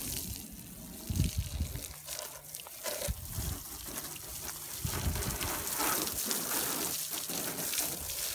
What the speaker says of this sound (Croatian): Sad ćemo mi malo njega da, što se kaže, poprskamo vodom.